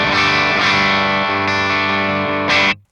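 An LTD Phoenix electric guitar played through a Marshall JCM 800 Studio amp on the low-sensitivity input gives a light crunch tone: a few loud, sustained distorted chords, each struck then ringing, before a sudden muted stop.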